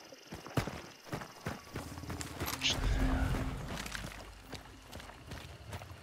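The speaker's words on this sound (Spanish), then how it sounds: "Caballo atrás se relinchó una vez" A horse in the Hunt: Showdown video game gives a brief whinny amid steady hoof clip-clops and ambient game sounds, heard at a moderate distance.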